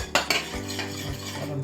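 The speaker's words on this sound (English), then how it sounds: "Before you serve it, mix good because all the sauce goes in the bottom of" A spoon scrapes and clinks against a bowl while corn salad with garlic sauce is mixed, giving a few sharp knocks followed by softer stirring scrapes, close and clear with no talking.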